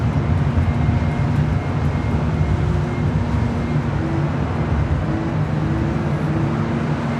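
A Qatar Airways Airbus A340-300 airliner at LAX gives off a steady, loud, broadband engine roar with a deep low rumble that holds even and unbroken throughout.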